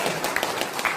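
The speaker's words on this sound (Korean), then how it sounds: "박수 치고 한번 박수 치고" Audience applause at a Korean political speech, a dense, steady wash of many hands clapping filling the whole second at moderate level.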